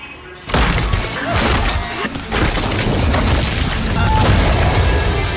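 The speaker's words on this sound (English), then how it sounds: "The sweet karma of Mahito going from a head explosion deliverer to an exploded head receiver with the same sound effect to boot." A loud anime head-explosion sound effect: a sudden booming blast followed by sustained crashing, shattering noise that fills the whole stretch.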